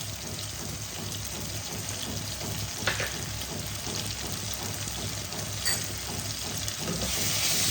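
Cashew and raisin pieces for stuffing fry in a pan with garlic paste, making a soft continuous sizzle with a couple of brief clinks of a utensil, fairly quiet and steady, no talking.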